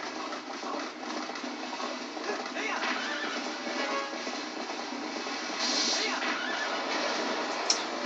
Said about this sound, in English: Get on the horse, Link.